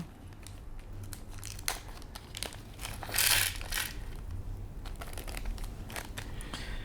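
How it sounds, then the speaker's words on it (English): Screws tumble out of a crinkly plastic packet during the build of a 1/10th scale retro Formula 1 RC kit (Grand Prix 3D Type L): quiet, close rustling and crinkling with small clicks and one brief louder burst. "let's empty out the screws out here"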